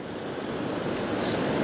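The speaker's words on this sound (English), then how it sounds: "I see it's getting stronger and stronger, and the wave line's getting higher and higher." Ocean waves roll and break on a shoreline in a steady broadband wash, building slightly louder toward the end, with wind noise mixed in and no voices.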